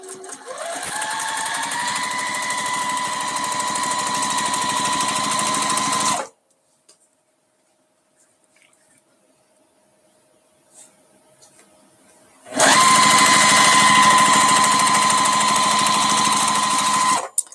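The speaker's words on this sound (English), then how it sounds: "I'm just going to start sewing a 1/4 inch seam" A sewing machine runs steadily, stitching a quarter-inch seam through gingham fabric, stops for several seconds of near silence, then resumes at an even, loud, close pace.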